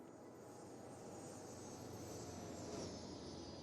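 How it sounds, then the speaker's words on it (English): An airplane in the city-building game Cities: Skylines passes with a steady broadband jet roar, holding even and moderately loud throughout with a slight swell near the end, no voices over it. "An airplane just went by."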